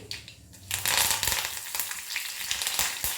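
Curry leaves hit hot oil with a loud, bright sizzle for a mango chutney tempering on a just-switched-off stove. The crackling spatter surges and then settles into a steady fry, close up with no talking.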